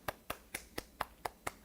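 Seven sharp hand claps in a steady, even rhythm, fairly quiet and close, during a Korean-language live lecture stream, with no speech over them.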